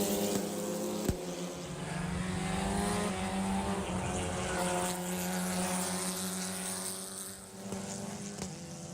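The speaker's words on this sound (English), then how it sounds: "I can hear as Isabella's car goes by, I can hear it popping." A race car at a Miami Grand Prix road race roars past with a droning engine that rises and fades, with sharp pops and crackles suggesting a fault, heard from trackside with no talk.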